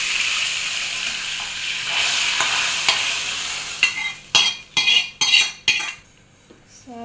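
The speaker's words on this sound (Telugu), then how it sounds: "తర్వాత ఆ తాలింపు మొత్తం చారులోకి వేసేసుకోవాలి" Hot tempering poured into moong dal rasam: a broad sizzling hiss near at hand, followed by several sharp metallic clatters of a pan or ladle in quick succession, then a quieter tail, with no speech.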